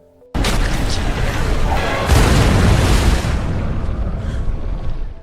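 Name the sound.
explosion in a film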